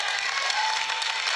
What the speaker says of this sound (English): Anybody clap?